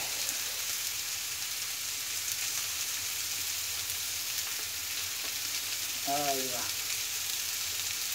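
Potatoes browning in oil on a disco pan give a steady, dense sizzle and crackle throughout, close and even, while a voice speaks briefly near the end.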